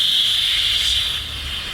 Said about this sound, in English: There should be air come out of this drain tap.